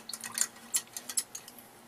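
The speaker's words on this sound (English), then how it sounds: "Rinse off the brush a little bit." A paintbrush is swished and rinsed in a water container, giving a few soft, close splashes and drips in irregular bursts, with no one talking.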